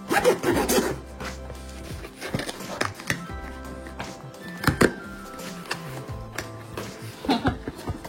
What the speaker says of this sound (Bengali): একটুখানি পার্সেল গুলো কেটে দেখি অ্যামাজন থেকে কি কি এসেছে